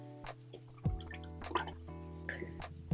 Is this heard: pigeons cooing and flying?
no